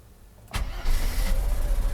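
A Mercedes W126 300SEL catches on a cold start after a fuel distributor repair: a brief cranking burst, then the engine fires and settles into a loud, steady close-up idle with a slightly raised cold-engine speed, no voices.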